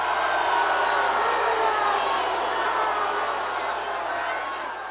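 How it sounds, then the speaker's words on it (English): Large rally crowd at a Bernie Sanders event in Philadelphia, a dense sustained roar of many voices reacting together, loud and continuous, easing slightly toward the end. "listen to the reaction of the crowd when he tells them what they have to do"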